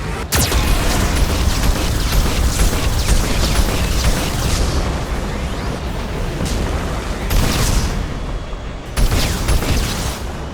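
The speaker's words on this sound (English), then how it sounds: "Warning, Geth cannon is locking on our location." Geth cannon fire and explosions in the Mass Effect 2 video game, a loud, dense barrage of booms and bursts rolling continuously for ten seconds with sharp blasts near the start and end.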